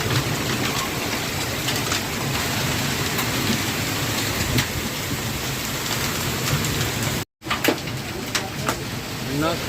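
A hailstorm pounds down with hail and heavy rain, a loud continuous roar with sharper pelting hits, birds calling faintly and a voice talking in the background.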